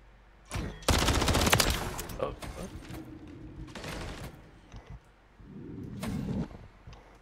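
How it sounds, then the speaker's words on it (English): Bursts of rapid gunfire in the Call of Duty Modern Warfare 3 video game, several loud volleys separated by short pauses, with a final shot at the end. "Gunshot."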